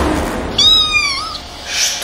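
A kitten gives a single drawn-out, rising-then-falling meow, close and clear over a steady background hiss, with no talking.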